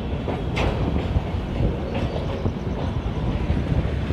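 Vikramshila Express train running steadily at speed after leaving Kanpur Central, with continuous loud rumble and rhythmic clickety-clack of wheels on rails heard from inside the coach.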